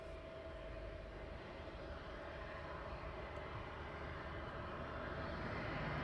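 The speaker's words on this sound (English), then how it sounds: "Ryanair is on its way in" A Ryanair jet arriving at East Midlands Airport at night, heard as a steady, distant broadband engine roar that holds level and swells slightly toward the end, with no voices.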